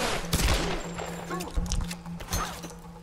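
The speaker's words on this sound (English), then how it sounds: "Look how good I am at shooting." Gunfire in the Tomb Raider video game cracks out in several sharp bursts over about three seconds, sounding close and loud over a steady game hum, while a player talks over it.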